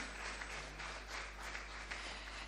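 Audience applause at the African Diaspora Summit 2025 launch in Ghana, a steady dense wash of many hands clapping at moderate distance, fairly quiet and continuous without voices.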